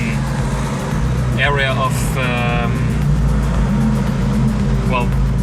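A car drives through the tunnel in Monaco, heard from a spotting spot above as a continuous engine rumble and road roar, with someone talking over it.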